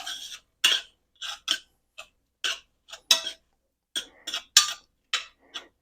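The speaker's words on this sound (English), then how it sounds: "We're just going to stir this in good." Goulash meat mixture stirred in a pot over a medium burner, a run of separate, crisp scraping and clinking strokes with short pauses between them, close and fairly loud, no voices.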